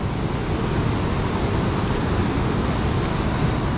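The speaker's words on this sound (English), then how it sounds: "Water's in full flood over there." Steady, loud broadband rush of a river running in full flood near an abandoned creamery, continuous and unbroken with no voices.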